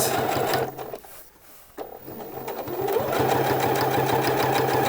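A sewing machine runs up close while stitching a summer shirt, a steady fast mechanical whir that pauses briefly after a second and then keeps going loudly to the end.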